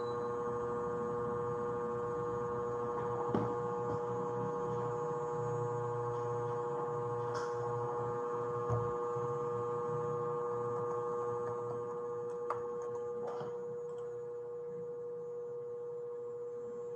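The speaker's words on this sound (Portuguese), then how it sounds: "Pessoal, é o ar-condicionado, acredita?" Air conditioner hum picked up by a microphone during an online lecture, a steady droning tonal whine with buzzing harmonics lasting throughout, with occasional faint clicks and no speech.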